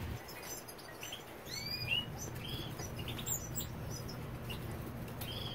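Caged goldfinches chirp in an aviary, several short thin calls and twittering notes scattered over a faint steady background hiss, quiet and a little distant.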